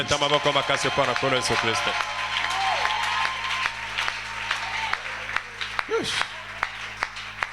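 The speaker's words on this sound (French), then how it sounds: "Acclamons très fort le Seigneur Jésus." Congregation at a Thursday church service clapping and cheering in acclamation of the Lord Jesus, a steady burst of crowd applause with cheers, joined over a sustained musical drone and keyboard notes early on.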